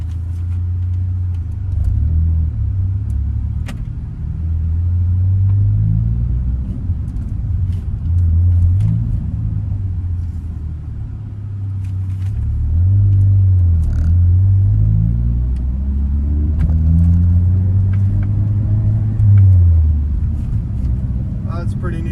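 A 2015 Ford Focus ST on the road, its engine a steady low rumble that swells and eases with gear changes, heard from inside the car throughout.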